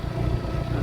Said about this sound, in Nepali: बुढोले नन स्टप बाइक कुदाइछन्